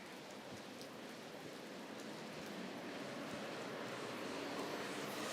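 Heavy rain falls on a city street along North Bridge Road, a steady, loud hiss of drops on pavement and surfaces that builds slightly toward the end, with no talk.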